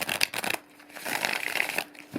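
A Fenestra tarot card deck is shuffled by hand, a few quick bursts of papery riffling and scraping close up, with brief pauses between them.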